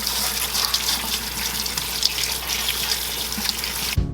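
Cold tap water gushes over two pounds of live crayfish in a sink, a loud steady rushing splash held close, cutting off abruptly at the end.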